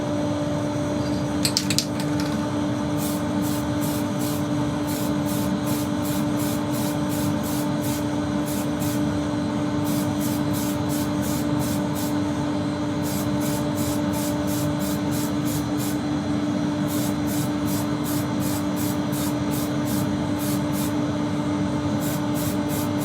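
An extractor fan hums steadily while a finish is sprayed onto a wood-turned insert clock in short, rhythmic bursts, grouped in repeated runs of hissing pulses.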